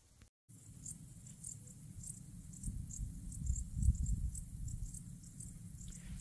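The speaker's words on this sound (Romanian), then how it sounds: "Concert de greieri aici." Crickets chirp in a steady high-pitched chorus in the forest of Ținutul Pădurenilor, continuous and fairly faint, with a low rumbling background underneath and a brief dropout near the start.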